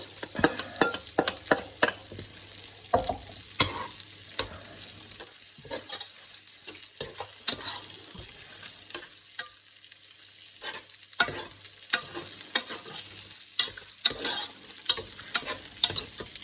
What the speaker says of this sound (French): j'ai cuit mes tagliatelles. Et j'incorpore mes tomates concassées